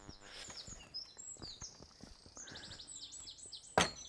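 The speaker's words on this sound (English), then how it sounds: "as you can hear the birds singing away, there's a load of blackbirds and robins and blackcaps in there." Blackbirds, robins and blackcaps sing in Avoncliff Wood in Wiltshire, with quick chirps and trilled phrases rising above a quiet woodland background, faint and somewhat distant, along with soft rustling footsteps and one sharp louder burst near the end.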